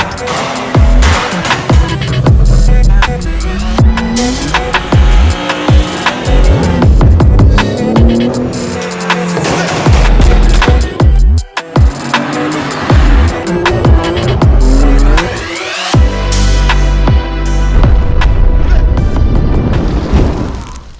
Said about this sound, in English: we got this 2019 Nissan Skyline GTR in for some sound upgrades